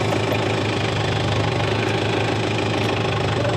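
A tractor fitted with a front loader rumbles and knocks along at close range as it heads down toward the hay field, a continuous gritty diesel chug with no talking.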